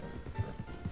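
Horse hooves clip-clop in a video game, a quick run of soft thudding steps over a dense low background.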